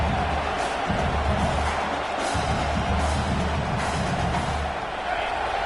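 Football stadium crowd roaring and cheering continuously, a dense, loud wall of fan noise with rising surges and low rumbling throughout.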